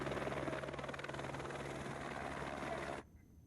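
A rescue helicopter in flight during flooding in Uttarakhand, its rotor giving a loud, steady, rapid chopping thrum that cuts off abruptly near the end.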